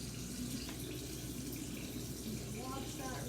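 A tablespoon is rinsed under a running kitchen faucet while biscuits are being made, giving a steady, close hiss of flowing water with faint clinks near the end and a voice over it.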